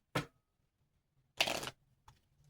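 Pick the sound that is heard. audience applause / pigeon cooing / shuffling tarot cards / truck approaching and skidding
shuffling tarot cards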